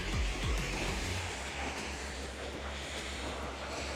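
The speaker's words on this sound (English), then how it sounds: "just the flow of the water makes you feel like it's cooler out" Continuous rushing water from a waterfall on the Las Vegas Strip fills the clip with a broad, even wash, a little louder at the start, with no voices.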